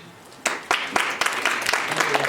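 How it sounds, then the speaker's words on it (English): Audience at a centenary jubilee celebration in Delhi breaking into applause, sharp claps starting abruptly and building into steady, close clapping that continues to the end. "So I want a round of applause for him, Ateeb Sarosh."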